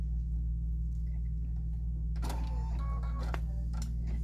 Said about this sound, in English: So let me go ahead and lower my presser foot and do that.